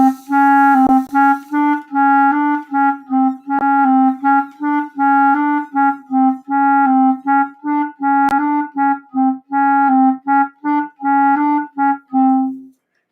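Clarinet plays a quick articulation exercise, alternating one tongued note with two slurred notes in a steady run, close, clear and unaccompanied.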